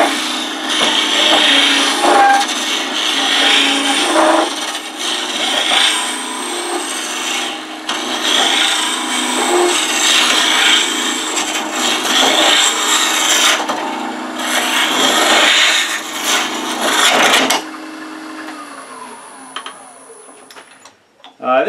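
A woodturning tool cuts into a spinning wooden workpiece on a lathe, making a loud, continuous scraping rasp that runs steadily and then stops near the end.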